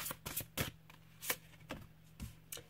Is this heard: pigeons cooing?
no